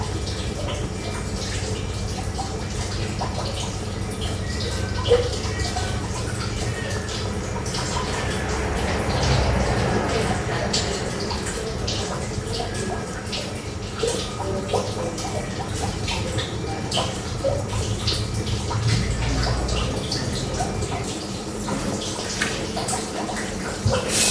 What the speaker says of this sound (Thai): กำลังเดือดค่ะ